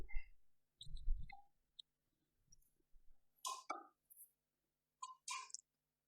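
Sparse, faint mouse clicks from a computer mouse working a microcontroller development tool, scattered among soft handling noises and quiet room sounds, with no talk.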